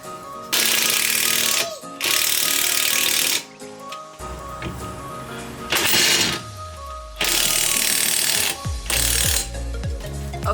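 A powered jack raises a car's lower control arm during an air suspension install, giving loud, close, rattling mechanical bursts in several runs with brief gaps and winding-down tones between them.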